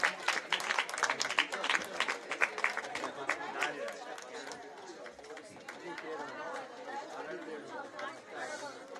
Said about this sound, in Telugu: క్లాప్స్ కొట్టాలి, గట్టిగా క్లాప్స్ కొట్టాలి